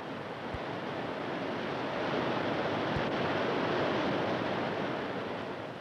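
Ocean waves pounding against a rocky shore, a steady, loud, broad roar of surf that swells slightly in the middle and carries on without a break, close and wind-blown.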